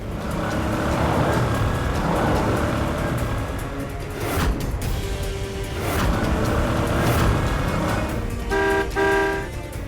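Steady traffic noise from a car driving on a road while overtaking, with the engine and road rumble continuous throughout and a few short horn toots near the middle and again at the end.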